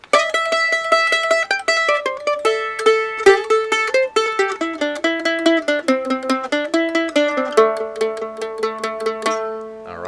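A stringed instrument alone plays the tag part of the bluegrass tune Jerusalem Ridge as a bright run of clear, quickly repeated picked notes that shift pitch steadily and close on a lower note.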